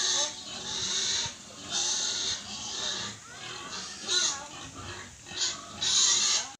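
Native pigs grunting and squealing at afternoon feeding time on a rural farm, a steady chorus of overlapping oinks and squeals close by, fairly loud throughout with bursts of higher squeals.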